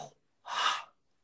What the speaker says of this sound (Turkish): Nefes alıyorum sadece.